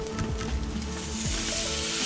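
Snapper fillet frying in a pan, a steady close sizzle with a couple of soft knocks and scrapes as the fish is flipped, nothing spoken over it.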